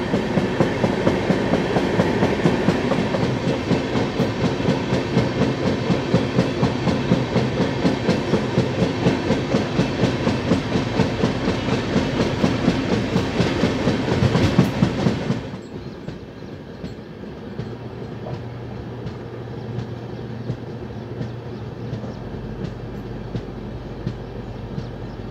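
The Hyderabad-Jaipur special train runs along the Bhusawal bypass line, with a steady loud rumble and rhythmic clatter of wheels for about fifteen seconds, then dropping to a quieter, smoother hum with a low tone.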